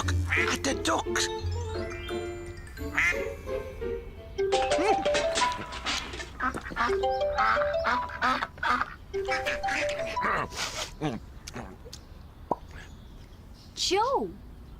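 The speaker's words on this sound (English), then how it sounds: "Oh, look at the ducks." Cartoon ducks quack in quick repeated bursts, loud and close, under a lively musical score with voices talking over parts of it.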